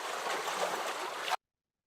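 Ocean waves play from the Oto tinnitus app: a soft, steady wash of rushing water that stops abruptly.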